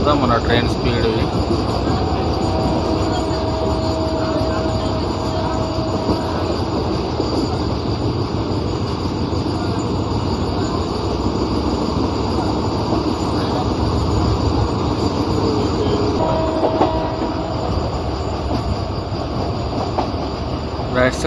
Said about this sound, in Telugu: చెర్లపల్లి దాటిన తర్వాత మన ట్రైన్ స్పీడ్ ఇది